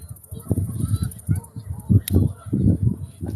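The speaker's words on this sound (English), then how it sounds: "Them geese are over there having a good day, it sounds like." Geese honk repeatedly in a noisy, overlapping chorus, fairly close, with uneven bursts of calls and low wind rumble underneath.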